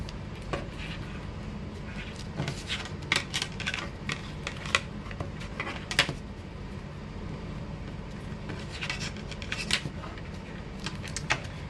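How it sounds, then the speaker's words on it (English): Origami paper being creased and folded by hand for a unicorn head from a kit, a close run of crisp, papery clicks and crackles with short pauses between folds. "Fold it in, making sure the point is very nice."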